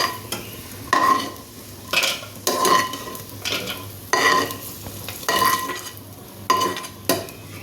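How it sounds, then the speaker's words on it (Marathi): Peanuts roast in a dry pan while a spoon stirs them in repeated scraping strokes, with a soft sizzle beneath, close and clear with no talk. "आणि हे शेंगदाणे चांगले खरपूस भाजून घ्यायचे."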